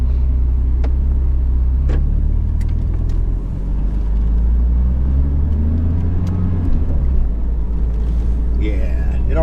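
A Porsche Cayman S with a manual transmission is driven on the road, its engine and tyres making a low, steady rumble inside the cabin while people talk over it.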